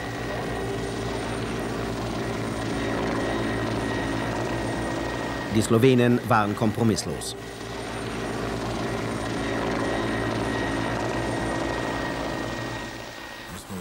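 Military helicopter flying over a town during wartime, a steady rotor drone running throughout with a louder rhythmic burst of passes midway, while someone speaks over it.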